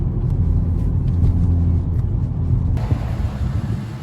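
Hyundai i30N hatchback driving along country roads, a steady loud engine and road rumble from inside the car with no talking, the tone shifting brighter partway through.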